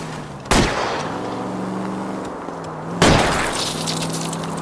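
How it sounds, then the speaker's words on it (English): Gunfire at a fleeing car's tires during a car chase in the L.A. Noire video game: two sharp, loud shots about two and a half seconds apart over a steady engine drone. "I'll try to shoot out his tires."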